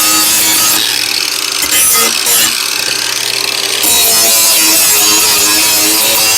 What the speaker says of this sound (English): I'm going to bring out a bit more of the metal with the angle grinder.